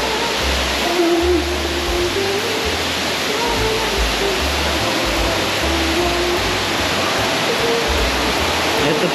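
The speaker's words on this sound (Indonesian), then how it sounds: "Air terjunnya itu ada dua." The Jagir waterfall in Banyuwangi roars as a loud, unbroken rush of falling water, with a low rumbling underneath that fills the whole stretch.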